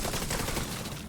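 Rapid automatic gunfire in The Division 2, a dense, continuous volley of shots during a solo Legendary firefight, loud and unbroken throughout with no talking.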